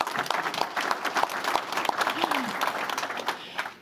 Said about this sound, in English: you may give her a round of applause,